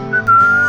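A clear, steady whistled melody from a country radio station jingle in the video game GTA San Andreas, K-Rose, comes as one brief, loud, pure tone with a short rise before it settles and holds.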